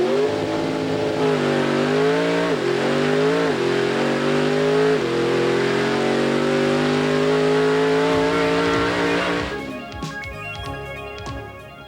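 A nitrous-equipped muscle car engine revs hard and accelerates with loud, sustained roaring that climbs through several gear-like pitch rises before dropping off into rougher, lower rumbling near the end.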